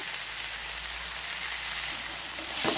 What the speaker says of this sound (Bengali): টমাটো দিয়ে ভালো করে কষাবো আমি ওর মধ্যে একটু লবণ দেব আবারও ভালো করে কষাবো